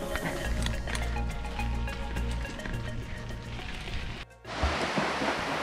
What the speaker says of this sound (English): It is just an absolute downpour here at Shellha